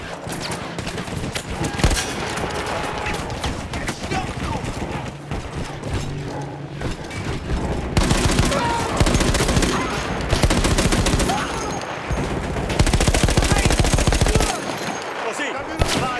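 Sustained bursts of mounted machine-gun fire from a manned emplacement in the World War I shooter Battlefield 1, loud and close, in rapid rattling volleys with brief pauses, under a dense battlefield din.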